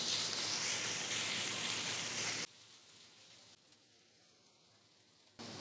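Onion, garlic, ginger and green chili sauté in a pan for an egg curry, giving a steady loud sizzle that cuts abruptly to near quiet, then briefly returns at the end.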